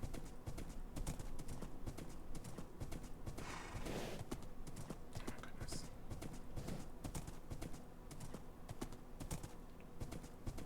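Horse hooves clip-clop steadily and fast through desert and mesa terrain in a video game, a continuous rhythmic patter under a noisy mix with keyboard tapping.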